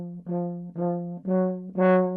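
A French horn plays a long line split into four articulated notes on nearly one pitch, each note swelling briefly with a small gap before the next, solo and close.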